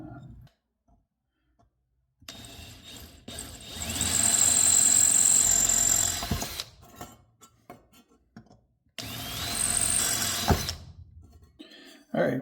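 A power drill bores holes into a gate shifter mount in two bursts, a steady high-pitched whine of several seconds followed by a shorter one, close and loud against a quiet workshop.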